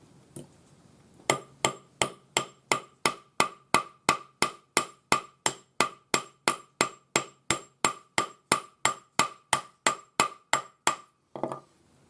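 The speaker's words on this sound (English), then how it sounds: "one of the reasons I'm hammering this is to show you how to do it without a rolling mill" Oval metal wire for a bangle being flattened with a hammer, about thirty steady, evenly spaced ringing blows close up, with no talk.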